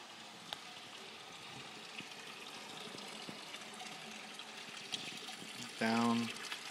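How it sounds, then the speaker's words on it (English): Water runs steadily through the center of a thick concrete countertop set over wine-stained barrel staves, making a continuous soft splashing wash with a brief tonal burst near the end. "Water flows through the center."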